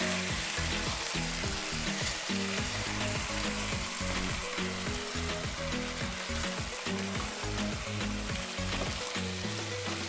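Tomato sauce sizzles and bubbles in a pan for a pork pochero, with a steady frying hiss and repeated scraping stirs of a spoon in a regular rhythm, loud and close with no talking.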